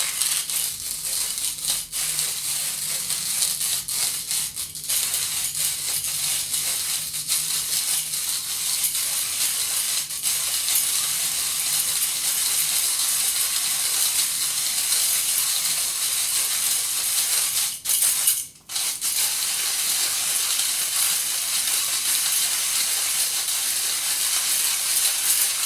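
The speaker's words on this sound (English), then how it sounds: "This could take a little while because I've set the grinder to quite a fine grind size" A coffee grinder set to a fine grind runs steadily through its beans, a continuous close hiss with a few small clicks. Near the end it briefly dips and then resumes, and no one speaks.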